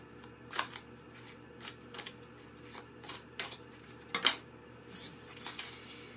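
Archangel oracle cards shuffled by hand, several distinct riffling bursts in quick succession at close range, with no talking.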